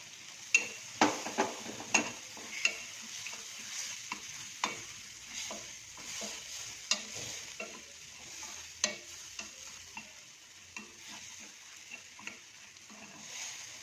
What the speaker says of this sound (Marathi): त्याला छान तळून घेणार आहे व्यवस्थित.